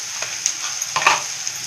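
Ginger garlic paste sizzling in hot oil in a pan for a white pea curry, with a steady hiss and a few soft spoon scrapes and stirs, close and alone.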